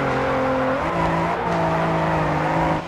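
Race cars in the video game Grid 2 roar close and loud, with sustained engine tones that shift pitch as gears change, plus brief tire squeal, and no voices.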